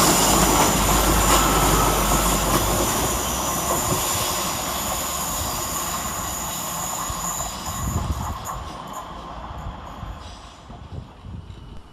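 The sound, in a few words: Class 153 diesel trains powering up the hill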